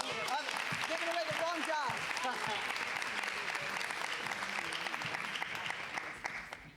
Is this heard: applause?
yes